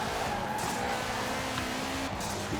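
Turbocharged engine of a 2005 Subaru STI in the Forza Horizon racing game, a steady, loud engine drone with a faint tire squeal, continuous for the whole stretch.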